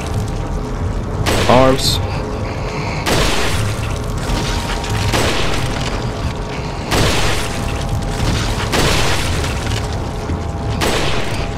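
Gunfire in the video game Resident Evil 4, several heavy booming shots spaced a few seconds apart with mechanical clacks between them, loud and close under a person's voice.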